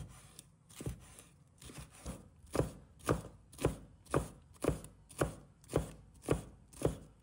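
Red chili being chopped into small pieces on a board with a knife, about a dozen crisp, evenly spaced chops close up, growing steadier and louder as the rhythm settles.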